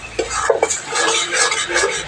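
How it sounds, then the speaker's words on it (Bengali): A spoon scrapes and clinks against a pan while ground coriander spice paste is stirred and fried in oil for egg curry, with a few sharp metallic knocks and a soft sizzle underneath. "এবার এই গুঁড়া মশলাটাকেও আমি ভালোভাবে নেড়েচেড়ে কষিয়ে নিব"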